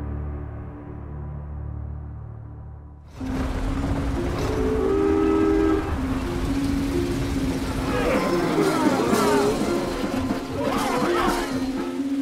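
After a muffled opening, a train rumbles steadily through a rain-soaked railway station with a long low whistle tone, metallic squeals and screeches, and some voices in the background.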